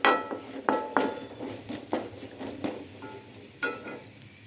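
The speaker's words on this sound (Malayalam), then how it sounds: "നമുക്കിനി മോരൊഴിച്ച് കൊടുക്കാം. നന്നായി ഇളക്കി കൊടുക്കാം." Buttermilk goes into a pan on low flame for Kerala-style moru curry and is stirred, making a string of clinks and scrapes from the spoon against the pan.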